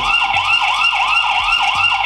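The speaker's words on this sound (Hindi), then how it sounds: "इससे एक अलार्म बजे बजेगा साइरन बजेगा देखिए" A loud electronic siren from a cheap indoor Wi-Fi CCTV camera wails in a steady, rapidly repeating up-and-down cycle, close and continuous with no talking.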